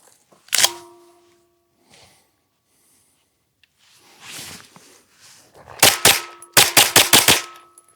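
Smith & Wesson M&P FPC folding rifle firing defensive ammunition, one loud shot with ringing decay, a pause with handling and breathing, then a quick string of six sharp shots close to the listener.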